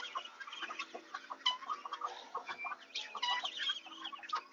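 Chickens cluck and chatter at feeding time, with several birds making fairly close, busy, overlapping calls and no voices.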